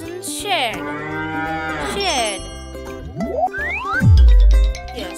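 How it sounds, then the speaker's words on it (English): A cow moos twice, a long drawn call followed by a rising second call and a deep loud low bellow near the end, set against a bright cartoon-style musical backing in a children's animal-homes lesson. "Cows lives in shed."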